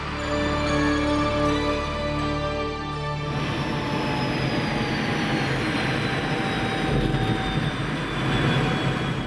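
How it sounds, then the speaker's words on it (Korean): Black Eagles aerobatic jet aircraft fly at an air show with a loud, continuous roar and whining tones that shift in pitch as they pass, heard without any talk. "두 대의 비행기가 상공의 하트 모양을 그리면 한 대의 비행기가 날아와 꽂히는 큐피드의 화살까지"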